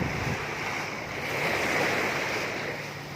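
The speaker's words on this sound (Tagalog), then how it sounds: "Ba't malakas na yung alon dito?" Strong ocean surf rolling onto a Philippine beach, a steady broad wash of breaking waves with wind noise buffeting the microphone, loud and continuous with a slight swell in the middle.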